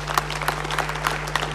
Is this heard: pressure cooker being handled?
no